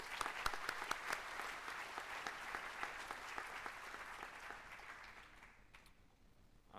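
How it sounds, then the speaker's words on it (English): Guests at a spring graduation ceremony give a round of applause, a moderate crowd clapping with a few sharp nearby claps standing out, tapering off toward the end. "One more round of applause for her."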